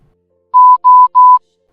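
Morse code tones hidden in a private online video for an OSINT capture-the-flag challenge: three clean, equal-length steady beeps in an even rhythm, clear and alone against silence.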